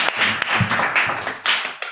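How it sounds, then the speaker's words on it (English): Audience applause after a panel discussion on partnerships for resilience and adaptation: steady, close clapping from a small crowd, with individual hand claps standing out, thinning toward the end. "they do deserve another round of applause for a job well done"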